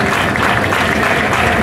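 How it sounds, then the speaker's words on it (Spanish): Dense, steady applause from an audience at a live music event, sustained and full throughout at close range, with no voices. "Fuerte aplauso, muchas gracias."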